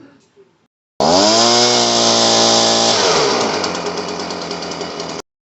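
A Stihl BG 55 leaf blower's two-stroke engine, just repaired with a new primer bulb and leaking fuel from the bottom, fires up and runs loud and close, its pitch shifting partway through before it cuts off abruptly.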